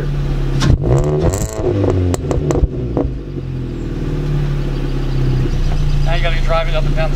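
A Chevy Cruze fitted with a ZZP catback exhaust revs in a few quick bursts, then settles into a steady, droning idle, with voices talking over the start.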